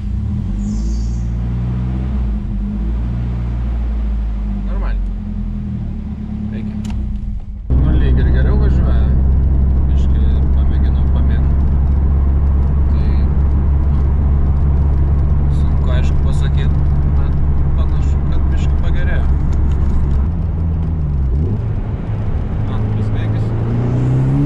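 A Nissan 200SX engine is cranked and fires up, shifting from a low idle-like drone to a loud, steady running rumble close by, with people talking over the engine throughout.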